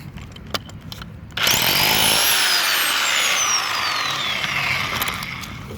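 A Bauer 1641e-b rotary hammer chisels into buried concrete, starting abruptly and then running as a loud, continuous, close-up hammering roar with a high whine that holds steady to the end.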